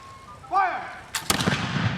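A historic fort's firing demonstration on the Great Lakes shore: someone shouts a command, then a single loud cannon or musket blast booms close by, its rumble lingering afterward.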